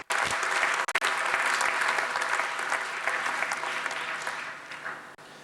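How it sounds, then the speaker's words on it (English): Sustained applause from an audience honouring invited guests at the opening ceremony of the National Synchrotron Radiation Centre, dense clapping that starts abruptly, holds steady and then fades slightly toward the end. "I guess that's the moment for the applause for all the invited guests."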